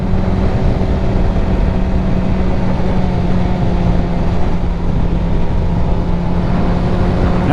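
A 2023 Suzuki GSX-R1000 sportbike pulls hard under throttle, its engine a steady, loud drone with heavy wind rush blending into a continuous roar, no voices.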